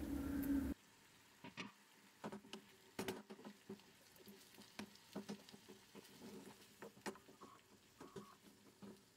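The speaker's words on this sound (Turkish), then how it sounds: "Bir adet ince doğranmış kuru soğan ekleyerek kavurma işlemine devam edelim." Scattered crackles and soft pops of finely chopped dry onion frying in oil, with occasional stirring scrapes; steady close sizzle texture, no voices.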